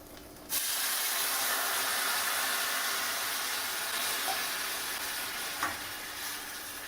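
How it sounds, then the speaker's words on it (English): Coconut milk pours into sizzling curry paste in a hot pan for a Thai massaman curry, setting off a sudden loud, steady hiss and crackle that keeps going with faint stirring clinks and no voices. "Now we're gonna add our coconut milk."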